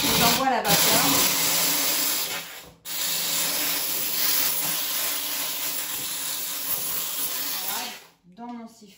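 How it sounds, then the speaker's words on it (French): Vapodil steam cleaner blasting steam into a bathtub drain, a loud, continuous hiss that runs for several seconds, breaks briefly once, then resumes before cutting off near the end, where a voice briefly speaks. "J'envoie la vapeur."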